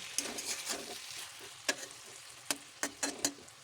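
Potatoes and mashed boiled tomato frying in a pan with cumin and spices, with a soft sizzle under several sharp scraping stirs, one near 1.7 seconds and a cluster toward the end.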